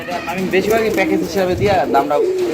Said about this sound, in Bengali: লুটন কবুতর হিসাবে খুবই বড় সাইজের কবুতর রয়েছে এখানে